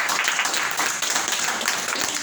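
A church congregation claps together during a worship service, a steady dense patter of many hands filling the room at moderate loudness, with no talk over it.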